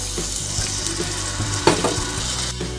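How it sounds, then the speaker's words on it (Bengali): Masala with Kashmiri chili powder and a splash of water sizzles steadily in a pan, a close, continuous fry with a few soft stirring scrapes and one sharper clink partway through. "এবার ভালো করে মশলাটা কষিয়ে নেব, সুন্দর করে কষিয়ে নেব তেল ছাড়া অবধি"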